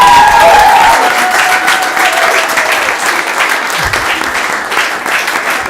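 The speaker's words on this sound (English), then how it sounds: "A round of applause for Meghan." Audience applause at a city council meeting, loud and sustained clapping from a crowd, with a brief tonal whistle or cheer early on and the clapping tapering slightly toward the end.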